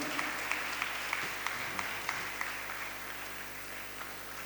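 Parents at a First Holy Communion Mass applaud the communion children, a soft roomful of steady clapping with a few sharper claps standing out, continuing evenly under a faint hum.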